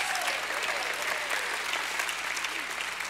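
A church congregation at an evening revival service claps loudly and continuously, with voices calling out in praise mixed into the sustained applause.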